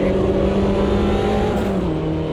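A Mini Cooper race car's engine drones steadily in Automobilista 2, a sustained buzzing hum with a slight pitch drop near the end, close and continuous.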